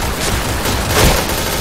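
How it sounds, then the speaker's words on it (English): Shotgun fire in the online shooter Point Blank, a dense burst of loud, close blasts that run together into a continuous roar with a stronger peak near the end. "Oh, shotgun itu."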